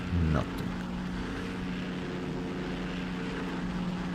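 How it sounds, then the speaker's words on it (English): In the WW2online video game, a World War II propeller airplane passes overhead and drones steadily at a moderate level, with a short louder knock at the start. "There's an airplane. Now that is ours. Air recon, surely."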